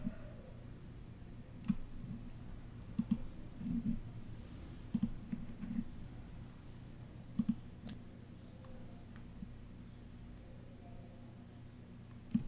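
Computer mouse clicks while working in Fusion360 CAD software, faint sharp ticks scattered singly and in quick pairs over a steady low hum.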